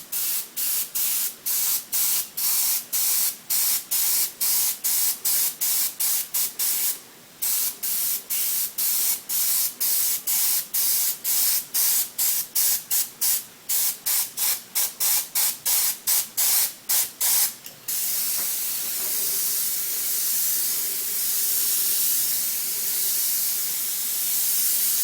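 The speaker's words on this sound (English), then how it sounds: "But we've got an airbrush, so we can airbrush that out." An airbrush sprays paint in rapid short bursts of hiss, close and loud. After a brief gap the pulses speed up. They then give way to a steadier continuous spray at the end, with no talking.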